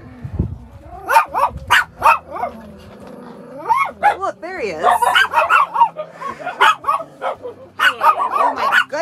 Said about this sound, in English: Oh my goodness, angry puppies.